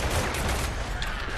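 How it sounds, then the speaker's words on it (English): A brief, loud burst of gunfire from a pistol in the dinosaur game Primal Carnage Extinction, dense and noisy with no clear separation between shots. "And pistol shot."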